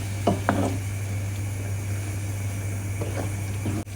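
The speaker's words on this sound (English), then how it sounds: "Stir the tomatoes through." Roasted tomatoes stirred in a pan, with a couple of soft wet scraping strokes early on and a few more later over a steady low kitchen hum.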